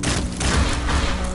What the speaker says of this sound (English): A violent explosion.